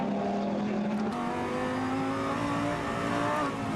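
A GT race car engine at Nogaro, France, heard onboard with driver Laurens Vanthoor: a loud, steady, close engine roar with a quick pitch drop at a gear change, then climbing again under acceleration.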